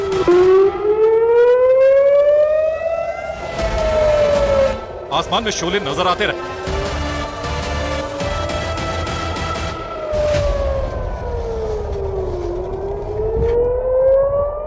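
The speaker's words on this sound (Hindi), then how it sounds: "और इजराइल में सायरन गूंजते रहे।" A loud civil-defense air-raid siren wails in Israel, rising and falling in long sweeps, with a voice talking over it.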